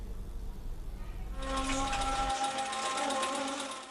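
A home sewing machine stitching made-to-order clothing hums in a fast, steady buzz that starts abruptly after a low rumble and runs continuously at close range.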